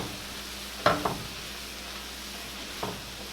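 Teriyaki turkey and garlic sizzle steadily in a pan, broken by a couple of sharp scraping knocks as the food is tossed, then a softer stir near the end.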